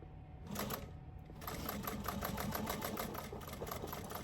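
A sewing machine back-stitches across a tote bag strap with webbing, running in a rapid, even needle rhythm after a short pause, close up and fairly quiet.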